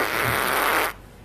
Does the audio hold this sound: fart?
yes